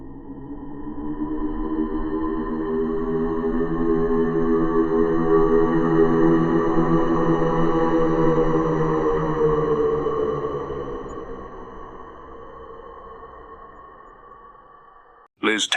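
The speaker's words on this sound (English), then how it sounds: "A loud, wretched, deep, morbid moan emanates around the room." A long, deep, wavering moan swells slowly, lingers for several seconds, then fades away before a short sharp sound at the very end.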